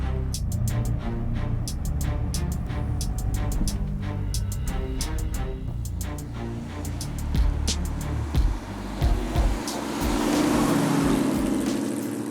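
A restored 1966 Chevy Nova resto-mod drives along with a steady, close engine rumble heard from inside, rising into a brief rev toward the end.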